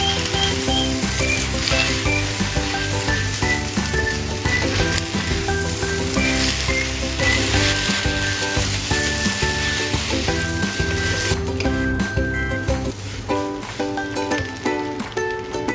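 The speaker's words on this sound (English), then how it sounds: "stir-fry until the sauce is reduced and the noodles are evenly coated" Xiang Yi noodles stir-fry in a reducing sauce in a wok, giving a continuous bright sizzle with occasional stirring, partly under prominent background music throughout.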